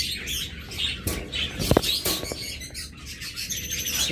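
Caged red-eyed pet birds chirp and tweet in short, scattered calls, with a few sharper, louder notes near the middle. A bit of rustling mixes in and no one speaks.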